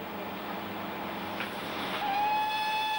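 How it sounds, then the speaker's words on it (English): Snowdon Mountain Railway steam train rumbling steadily nearby, with a sustained steam whistle starting partway through and holding to the end. "the sensation and sounds of steam propulsion are startling"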